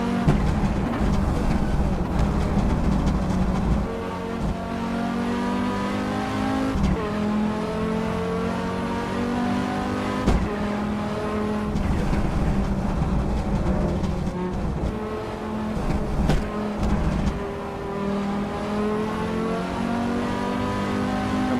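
A race car drives flying laps on the Bikernieki circuit, its engine holding a loud, steady high-revving drone that rises and falls through gear changes and corners, heard from onboard and close.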